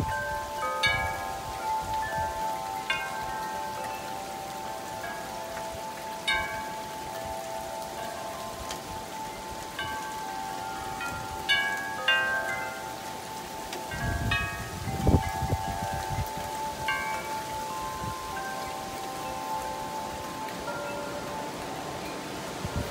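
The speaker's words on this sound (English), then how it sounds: "It's getting really windy right now." Tropical Storm Fred brings a steady overnight wash of rain and wind, with wind chimes tinkling in scattered bursts and a few louder gusts and thumps, no voices.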